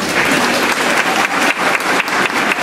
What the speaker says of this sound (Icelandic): við þökkum nú Vestmannaeyja kærlega fyrir hann fallega flutning og gefa þau gott klapp.